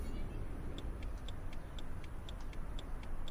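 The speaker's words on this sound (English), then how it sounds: "My turn signal is on." Car turn signal in a driving video game, ticking in a steady, even rhythm roughly twice a second, faint and alone over a low, constant engine and road hum.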